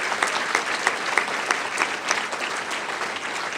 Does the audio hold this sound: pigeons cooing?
no